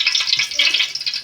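Onions being stirred in a hot pan while they brown for a vegetable biryani, giving a steady, close, crackling sizzle with no talk over it.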